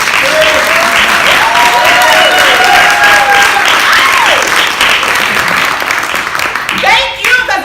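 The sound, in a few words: audience applause at a stage play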